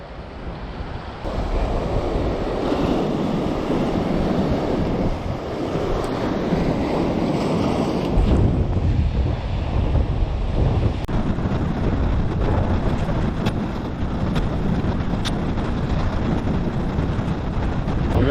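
Strong wind buffets an East Sea shoreline fishing spot, producing a constant roaring rush over the microphone mixed with the wash of surf, steady and close throughout.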